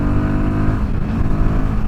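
Royal Enfield Guerrilla 450 motorcycle engine pulling hard in fourth gear at speed, a loud, steady, near engine drone with rising pitch, alone without talk.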